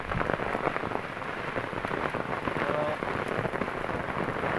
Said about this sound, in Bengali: যার জোরে জল এসে গেল আর ওইদিকে বেশি যাওয়া হলো না